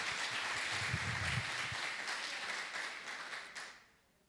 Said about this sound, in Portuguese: Dá uma aplaudida aí.